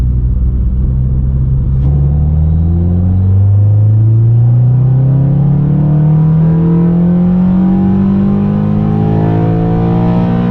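A 9th generation Honda Civic Si engine pulls hard under acceleration while driving, a loud, close cabin drone whose pitch climbs steadily through the revs after a brief dip near the start.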